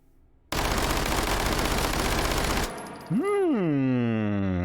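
Uzi Micro in the H3VR shooting game firing a sustained full-auto burst of about two seconds, loud and rapid, followed by a rising electronic tone.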